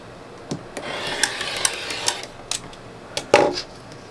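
Scissors or a rotary cutter slicing through two stacked layers of quilt fabric, a series of short, sharp snips and clicks at close range, ending in a louder cutting stroke, with no talking.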